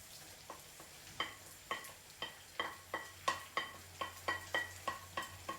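Onion and garlic frying in bacon fat, with a steady low sizzle under a run of regular, fairly close stirring scrapes and taps from a utensil against the pan.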